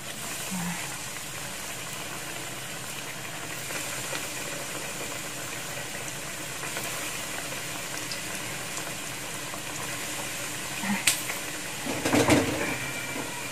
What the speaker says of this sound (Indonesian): Nah, kita goreng ya. Saya udah masukin minyak. Kita goreng satu-satu.